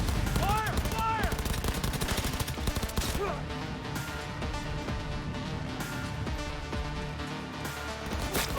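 Rapid gunfire crackles in the video game Cyberpunk, dense bursts of automatic shots mixed with game effects and a music bed, loud and near, with brief voices calling out between volleys.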